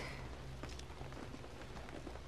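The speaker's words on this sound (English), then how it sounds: "We're out in the rain." Steady rain falls in the InFamous video game, a dense even hiss of drops with faint low rumbles beneath and no voices.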